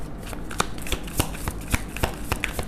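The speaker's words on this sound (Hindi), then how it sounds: "शफल करेंगे, जो भी कार्ड आएंगे उसे हम लेंगे, ठीक है।" Tarot cards being shuffled by hand up close, a quick run of sharp riffling snaps and soft slaps spread irregularly over a few seconds, with no voices.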